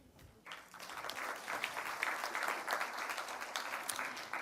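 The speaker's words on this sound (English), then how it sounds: "please, again, join me in giving them a big round of applause" Audience applause at the close of a defense forum session swells in after a short quiet start and continues as dense, even clapping through to the end, fairly close and steady.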